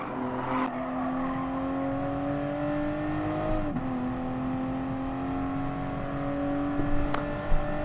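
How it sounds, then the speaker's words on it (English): A race car engine in Gran Turismo Sport holds a high steady drone that climbs in pitch, drops briefly at a gear change, then climbs again, heard alone with a few faint clicks. "So try and get the revs up a bit, changing gears, trying to keep close to the curb."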